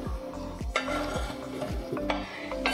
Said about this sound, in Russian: Первую партию грибов я уже порубила и отправила на сковородочку